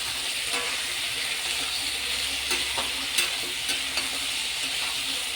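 Chicken pieces frying with onion in a pan give a loud, constant hiss and crackle, with occasional stirring scrapes running through it and no voices.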